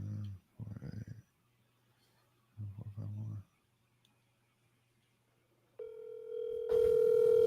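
An outgoing call placed from a cell phone, with a low hum and bursts of line noise giving way to a steady electronic ring tone near the end, fairly clear and alone without speech over it.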